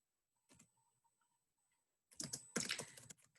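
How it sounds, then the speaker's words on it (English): Keys clack on a computer keyboard in a quiet room: a single early tap, a pause, then a denser run of close keystrokes near the end, with no talking. "let's have a go at starting to type"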